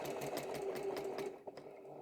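Sewing machine stitching straight diagonal quilting lines, a steady fast-running motor hum that drops off briefly near the end before resuming.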